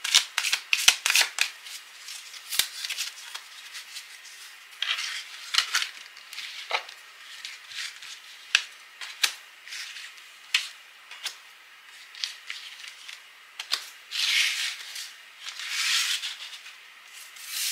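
Oracle cards being shuffled, riffled and laid out on a table for a weekly Sagittarius reading, a close, crisp series of papery flicks and slaps in irregular bursts, no talking.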